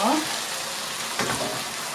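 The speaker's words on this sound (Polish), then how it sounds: "Po kilku minutach żołądki się fajnie podsmażyły" Duck gizzards fry in a pan for goulash, giving a steady, even sizzle with a brief stirring scrape partway through. No voices.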